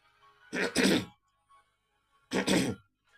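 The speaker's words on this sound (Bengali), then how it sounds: "খাঁকারি দিয়ে গলা পরিষ্কার করে" A man clears his throat in a suspense story narration. Two close, rough throat-clearing bursts come in quick succession, a short pause follows, and then a third rasping burst comes against a quiet background.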